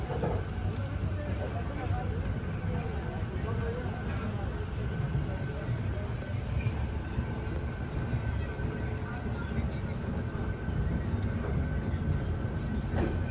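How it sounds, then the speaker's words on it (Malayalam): Steady, loud rumble of the Jamnagar–Tirunelveli Express locomotive heard from a front sleeper-class coach, with continuous rail and engine noise throughout and no clear speech. "ലോക്കോമോട്ടീവിൻ്റെ ശബ്ദം നല്ല രീതിയിൽ കേൾക്കാം."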